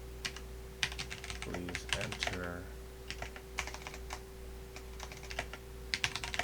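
Typing on a computer keyboard while writing PowerShell code: bursts of crisp, close key clicks separated by short pauses, over a steady electrical hum, with a brief spoken word partway through.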